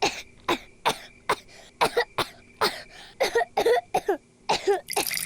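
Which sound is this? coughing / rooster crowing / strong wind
coughing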